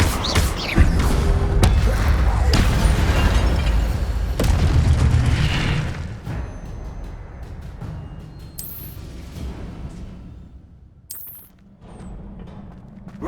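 Incendio fire spell explosions in the Hogwarts Legacy video game: a run of loud booming blasts and crashing impacts at close range, thinning into quieter effects and bright magical chimes later on.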